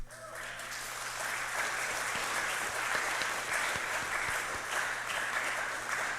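Steady, dense applause from a large crowd, loud and continuous throughout with no pauses.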